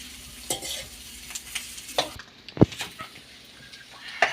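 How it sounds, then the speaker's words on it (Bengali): Egg and onion fry in a pan for chow mein: a soft sizzle broken by a handful of sharp scrapes and clinks of a spatula stirring against the pan, close and without speech. "ফ্রাই হচ্ছে আমার পেঁয়াজটা ডিমটা ভালো করে ফ্রাই হয়ে গেছে"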